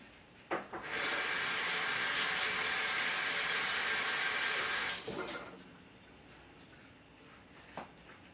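Chopped ingredients rinsed under a running kitchen tap: a steady, close rush of water lasting about four seconds, then cutting off to quieter rustling and a faint knock.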